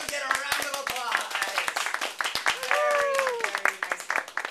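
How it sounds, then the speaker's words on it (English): A small group of young children at a Theatre Tots performance clap unevenly after their bow, scattered quick claps mixed with high children's voices talking and squealing over them. "you get a round of applause"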